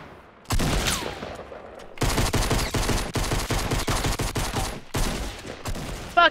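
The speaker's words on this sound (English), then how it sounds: "Where are you getting shot from?" Loud, close bursts of automatic gunfire in the video game Fortnite, with repeated rapid volleys separated by short pauses.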